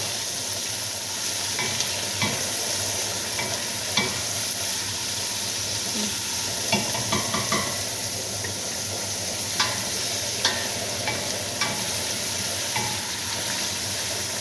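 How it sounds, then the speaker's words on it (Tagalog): Carrots sauté for pancit with a steady, close sizzle throughout, broken by frequent light scrapes and taps of a utensil stirring the pan. "unahan ko sa pagluto ang carrot mga guys kasi hindi pa siya luto"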